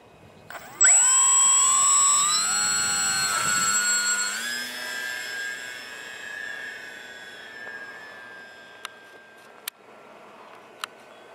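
A radio-controlled model airplane's engine whines high and close at first, then slowly pitches down and fades as it climbs away, with a few faint clicks near the end.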